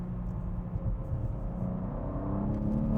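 A car engine drones and rises steadily from inside the cabin as the car accelerates through a turn that loads one tire, with a low, continuous rumble and a growing whine near the end.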